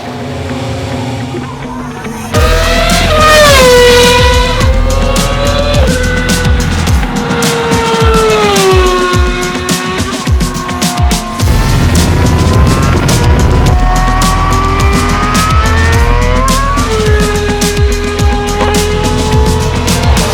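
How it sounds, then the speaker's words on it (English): A BMW Sauber F1.07 Formula One car at a shakedown at Zandvoort circuit, its high-revving engine screaming loudly through rising and falling gear changes as it passes close, continuous for about twenty seconds. "We're here today at Zandvoort, the home of the Dutch Grand Prix, for the shakedown of this BMW Sauber"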